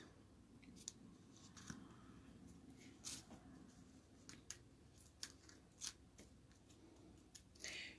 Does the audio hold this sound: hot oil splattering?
no